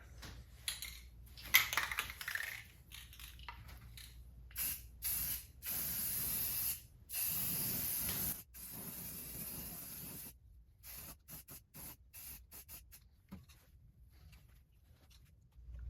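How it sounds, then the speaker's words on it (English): Intermittent bursts of aerosol spray paint on a Triumph Spitfire body panel during restoration, several hissing passes of varying length separated by short pauses, close and fairly quiet, with no talking. "let's go ahead and throw some paint on it real quick"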